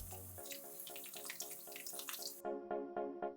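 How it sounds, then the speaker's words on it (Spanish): Water from a first watering drains through plant potting substrate into a container below, a steady trickle with close, rhythmic drips that grow clearer and louder near the end. "en este primer riego un recipiente donde todo el agua que vaya filtrándose y que no sea absorbida en ese momento se va a quedar ahí"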